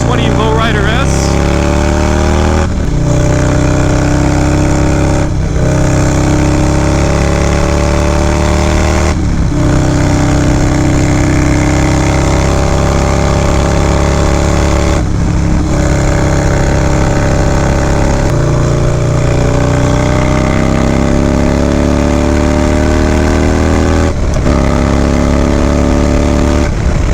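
A Harley-Davidson motorcycle engine runs loud and close throughout, with shifting revs and periodic gear changes, while a rider talks over it.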